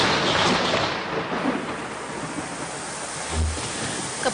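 Thunder rumbles low and heavy beneath steady pouring rain, with a deep boom rolling in near the end.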